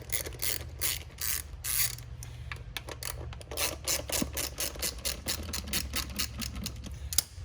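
Hand ratchet loosening long 8mm bolts from the belt cover casing of a Venom Motorsports x22GT 250cc motorcycle, a steady run of quick clicking strokes, close and fairly quiet, with no talking.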